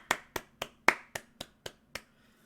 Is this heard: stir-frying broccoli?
no